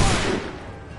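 Musket volley in Assassin's Creed III: a loud burst of massed gunfire at the very start, rumbling and decaying over the following second.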